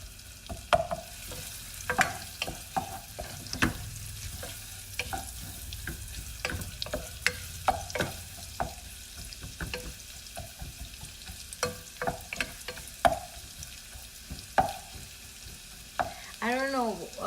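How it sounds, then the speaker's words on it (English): Tofu fries in a pan with bacon fat, giving a steady close sizzle broken by repeated scraping and stirring clicks from a utensil, with no talk. "sizzling sound when the food makes when you're cooking it"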